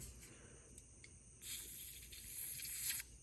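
An aerosol can of penetrating oil sprays onto the rear master brake cylinder of a 1983 Suzuki GS 850 G motorcycle in one steady, close, bright hiss of about a second and a half over quiet room noise.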